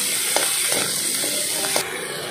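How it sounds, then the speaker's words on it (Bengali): Masala with ginger paste and chopped tomato frying in a pan, a loud continuous sizzle and hiss with a few light stirring taps, the high hiss dropping off shortly before the end. "আদা বাটা, টমেটো কুচি দিয়ে মশলাটা আমরা ভালো করে কষে নেব।"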